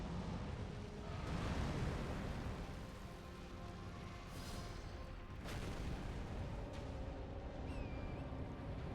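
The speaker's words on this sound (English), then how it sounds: "That's a fire attack" A fire attack explosion in the video game Elden Ring, set in the Consecrated Snowfield, sends out deep, rumbling booms over a constant roar, with a few sharper blasts standing out as the rumble rolls on.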